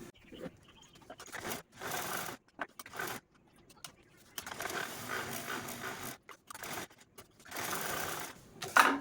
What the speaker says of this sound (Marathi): आणि बघा एवढ्या भागाला आपल्याला फक्त इथपर्यंत स्टिच करून घ्यायची नंतर आपण पलटी मारून घेणार आहोत तर चला मी लगेचच स्टिच करून घेते